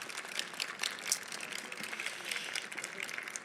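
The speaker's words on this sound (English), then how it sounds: "giving all of these wonderful people a round of applause" An audience at a navigation center ribbon-cutting ceremony applauds in a steady, moderately loud wash of clapping that continues evenly throughout.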